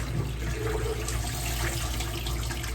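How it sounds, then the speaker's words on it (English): Water runs steadily into a bowl as mustard greens are rinsed, a continuous, close splashing flow with no voices over it. "And since I got mustard greens in this pot bowl, I'm gonna rinse it again."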